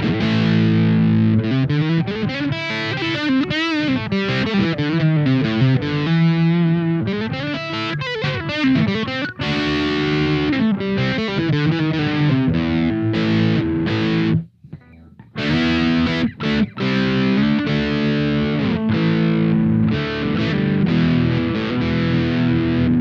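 Electric guitar with a humbucker pickup played through an LPD Eighty7 amp on its high-gain channel, with reverb and delay off: loud, heavily distorted chords and riffs ring continuously for about twenty seconds, with one brief pause in the middle.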